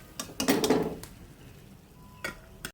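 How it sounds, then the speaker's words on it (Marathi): A ladle scrapes and clinks against a steel pot and tiffin boxes while cooked masoor dal is served for children's lunch, with a cluster of metallic knocks, a quieter pause, then another clink. "आता मी सगळ्यांच्या डब्यात भरत आहे"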